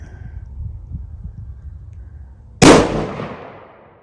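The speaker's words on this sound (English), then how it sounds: "Curtis is going to take his 3rd shot now" A single sharp, loud crack from a Mossberg Patriot .300 Win rifle cuts through near-quiet outdoor background, followed by a decaying echo that trails off over about a second.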